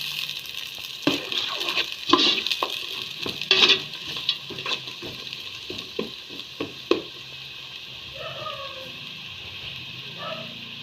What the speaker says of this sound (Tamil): வெங்காயம் வந்து ஓரளவு வதங்கிட்டு இப்போ பச்சை மிளகாயும் சேர்த்து கொள்ளுவோம்.